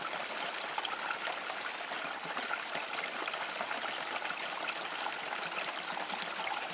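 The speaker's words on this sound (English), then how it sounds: "we got our 2 buckets of material here of dry stuff out of the wheelbarrow, and the automatic feeder working away there" Water pours steadily through a gold sluice box fed by an automatic feeder, with dry gravel material from buckets, making a constant close splashing rush without talk.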